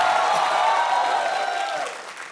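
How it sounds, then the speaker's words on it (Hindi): An audience applauds on a stage set to welcome a guest, a dense wash of close clapping that holds steady and then tapers off toward the end. "जोरदार तालियों से स्वागत करिए"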